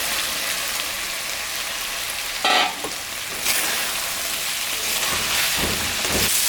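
Potatoes and cauliflower sizzling and frying with spices in a hot pan, a steady close crackle broken by brief stirring scrapes, with no talk.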